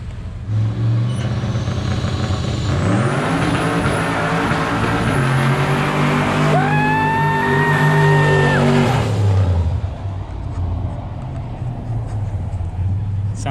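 A BMW Z-Kart with a newly fabricated turbo kit starting up for the first time and revving loudly up close, with steady engine drone, rising and falling pitch sweeps, and turbo whine through the middle.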